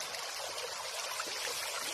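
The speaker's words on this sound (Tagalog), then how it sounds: "pakinggan nyo ang sounds ng agos ng tubig" Water flowing in an outdoor stream, a continuous bright rushing and gurgling that stays even throughout the short stretch, close by, with no speech.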